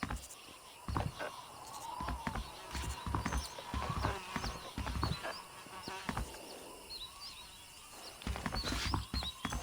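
Horse hooves clip-clopping at a walk in the game Red Dead Redemption, a steady, fairly close rhythm of hoof strikes with an occasional snort, over faint outdoor ambience with insects and birds.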